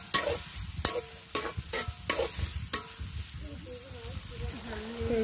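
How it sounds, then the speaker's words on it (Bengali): Food frying in a home kitchen pan while being stirred: repeated sharp scraping strokes of a spoon over a steady sizzle, with a voice speaking faintly in the background. "একটু ভাজা নেবো।"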